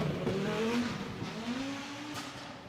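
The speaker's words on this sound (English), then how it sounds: "you heard the turbocharger, the wastegate there from the 5-cylinder engine on the Audi Sport Quattro A2" A five-cylinder turbocharged Audi Sport Quattro A2 rally car on a rally stage at the Goodwood Festival of Speed gives a moderately distant, fairly quiet engine note that rises and falls in pitch, with turbo and wastegate sounds.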